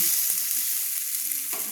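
Papaya and potato pieces sizzle and fry steadily in a pan for fish curry with sliced potato, with a soft stir or scrape now and then and a sharper clink at the end.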